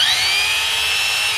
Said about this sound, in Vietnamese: Khoan thường nè